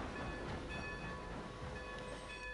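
A steady, quiet rolling rumble of a moving train in Red Dead Redemption 2, constant throughout with faint tonal whine and no talk.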